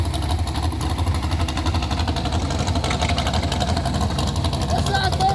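A small block Chevy V8 fitted to a big John Deere farm tractor runs with a steady, loud, throbbing rumble at an outdoor event, while people talk over it.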